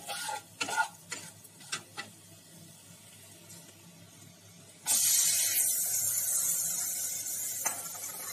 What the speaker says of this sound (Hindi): अब हम इसके अंदर प्याज और अदरक डाल देंगे।